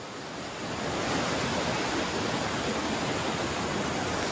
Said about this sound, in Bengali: তো চলো ড্যাম থেকে কিভাবে জল পড়ছে, দেখো জলের আওয়াজ তো শুনতেই পাচ্ছ